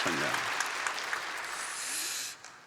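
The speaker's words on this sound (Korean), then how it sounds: "하나님께 영광의 박수를 올려드립니다" A church congregation applauds during a Sunday worship service, a broad wash of clapping that fills the first two seconds and then fades out quickly, with a voice faintly present under it.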